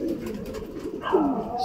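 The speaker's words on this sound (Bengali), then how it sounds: "এই গোটা 15-20খানা পায়রা সবে নেমেছে" Pigeons coo softly after landing from a morning flight, a low rolling coo from a small flock of fifteen or twenty birds, fairly close, with a brief brighter call near the end.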